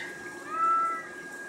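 Single cat meow, a short rising-and-falling cry in the middle of the moment over quiet background, fairly close and clear with no talk.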